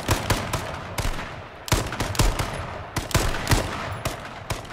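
Gunfire in the video game H1Z1 cracks out as a rapid string of loud, sharp shots in irregular bursts, some doubled, with no talk during the firing.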